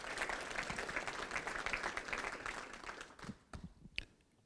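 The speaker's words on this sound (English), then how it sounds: "Can we get a round of applause for Joe Glavin here, too?" An audience at a Rotary Club career technical awards and scholarships ceremony claps steadily, then the applause thins out into a few scattered final claps.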